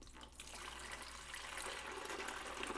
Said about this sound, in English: right below this line is where we're going to fill that with water